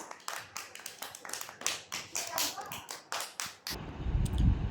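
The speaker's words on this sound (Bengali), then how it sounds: "গাইনা। হাততালি।" Preschool children clap together in a quick, uneven rhythmic series of sharp bursts in a classroom, ending in a louder rumble of handling noise.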